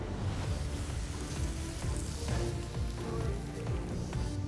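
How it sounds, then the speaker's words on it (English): Pork fillet sears in a hot grill pan, giving a steady, even hiss of sizzling fat, fairly quiet and continuous with no voices over it. "Instantly, I hear that sear and sizzle,"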